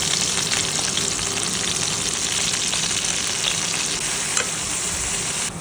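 Cut chillies and brinjal pieces fry in a pan for a brinjal fry, giving a dense, loud, continuous crackle up close.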